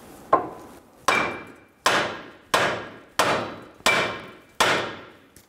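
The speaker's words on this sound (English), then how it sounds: "Using a hammer, we're going to hit on the knuckle where the tie rod is sitting in." A hammer strikes the steering knuckle of a 2011-2014 Hyundai Sonata to free the tie rod, seven sharp metallic blows at a steady pace, each ringing briefly, close and alone.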